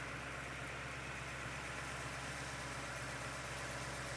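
A rebuilt 1971 Plymouth 'Cuda engine with a repaired cast-iron block idles smoothly and steadily, a constant low rumble heard alone at a moderate level throughout.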